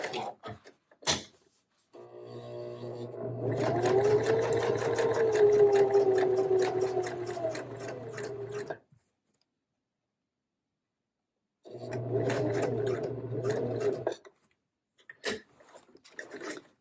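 A sewing machine top stitches a lined zipper pouch in two long humming runs of rapid needle strokes, separated by a quiet pause and bracketed by a few sharp clicks and thumps.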